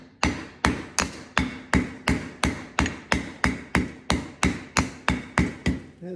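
A Land Rover 200tdi crankshaft oil seal flange takes a homemade wear sleeve through about sixteen evenly spaced, sharp metallic taps, close and steady, each with a short ringing decay.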